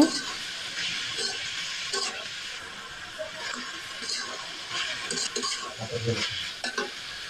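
Carrots, peas and potatoes are stirred in a hot pan for a vegetable chow mein, giving a steady sizzle with repeated scraping strokes of the spatula, close up and continuous, with no talking.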